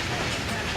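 The Sukkur Express passenger train in Pakistan rumbles along from on board, a dense, noisy, steady roar of wheels and carriage in hot weather, with a faint voice underneath.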